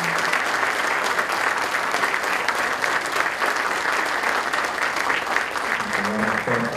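An audience applauds steadily and loudly at a university ceremony where credentials are presented to top officials, the dense clapping holding evenly throughout.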